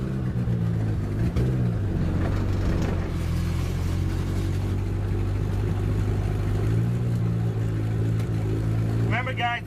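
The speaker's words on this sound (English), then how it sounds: "we're gonna take y'all on the first drive in the Turbo EK hatch" A Honda Civic EK hatchback with a turbocharged H/F-series engine swap, still lacking brakes, drives on its first run. A steady, droning engine tone rises and falls under ongoing in-car talk.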